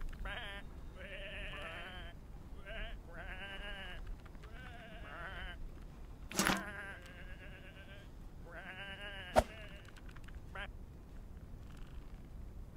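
Several sheep bleat repeatedly in a video game, wavering, nasal calls over a steady background, with a couple of sharp clicks between them.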